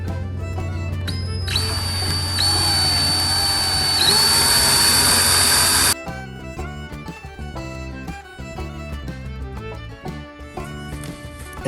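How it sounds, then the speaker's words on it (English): A power drill reams holes in brake parts on a classic Ford, a loud steady whine for several seconds that cuts off abruptly, followed by clattering and handling noises. "we're just gonna ream them out a little bit with a drill."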